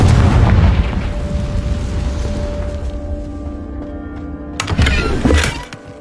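Confringo fire spell explosion in the video game Hogwarts Legacy, a loud booming blast that rumbles and fades over several seconds, then a second sharp burst with crackling debris near the end, no speech.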